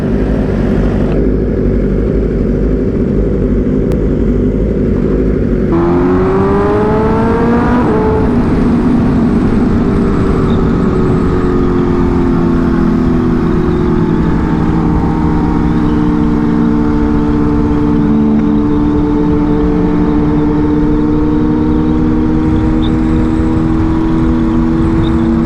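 A Kawasaki ZX-10R sport bike races at speed, its engine note climbing and shifting through gears as it revs hard, a loud, continuous roar with rising pitch sweeps and no talking.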